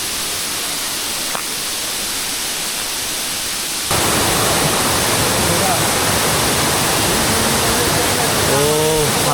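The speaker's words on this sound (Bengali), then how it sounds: "এই ঝর্ণা একটিবার দেখেন আপনারা নিজ চোখে দেখেন" Steady rushing roar of a waterfall in Bilaichhari, Rangamati, Bangladesh, that swells noticeably louder partway through, with a brief voice near the end.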